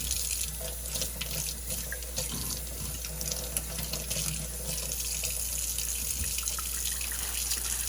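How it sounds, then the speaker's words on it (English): Tap water runs steadily into a sink over celery being washed by hand, a continuous close hiss and splash with no talk. "we're going to run water in and out of the rib of the celery and then rub our fingers up and down to remove any dirt that would be on the celery"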